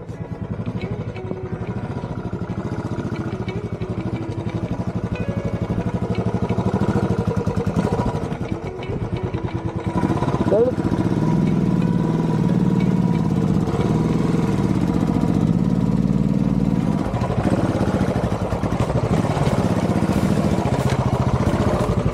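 A motorbike engine churns along a muddy road, a close, steady mid-pitched drone that swells louder and rougher about halfway through as the bike strains, with no talking.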